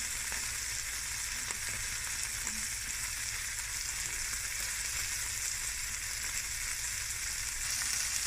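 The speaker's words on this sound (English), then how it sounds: "at this stage you just add 2 knobs of butter" Two knobs of butter sizzle with prawns in a frying pan, a steady, close, hissing fry that runs unbroken throughout, with no talking.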